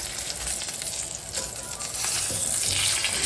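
A Berkshire pork chop sears in a hot pan, a loud, close crackling sizzle with spitting bursts that continues without talk.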